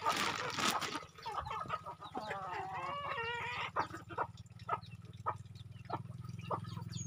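Pet native chickens clucking near a home, a series of short repeated clucks and calls over a low steady hum, fairly quiet and close.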